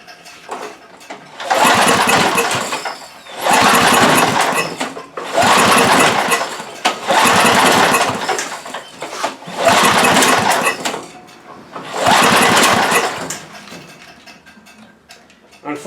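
Toro Power Shift snow blower engine being started and running, six loud bursts of engine noise several seconds long separated by brief pauses, close by with no talk.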